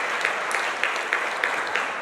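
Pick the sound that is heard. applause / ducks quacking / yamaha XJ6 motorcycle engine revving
applause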